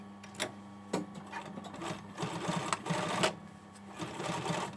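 A domestic sewing machine runs close by in short bursts, top stitching a hoodie sleeve so it matches the pocket, its rapid needle chatter starting and stopping with brief pauses between runs.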